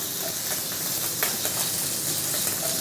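Scallops sear in a hot pan on a restaurant cooking show, giving a steady close sizzle and hiss with faint stirring clicks, and no voices.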